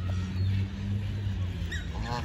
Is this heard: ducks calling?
yes